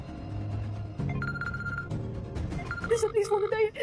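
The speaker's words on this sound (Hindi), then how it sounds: "सर प्लीज फोन उठाइए" A telephone rings unanswered in a repeating electronic tone, fairly close, with a voice and background music around it.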